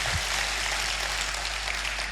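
Worshippers in a church applauding for Jesus after the pastor's prompt, a dense steady patter of many hands clapping throughout, fairly even in level.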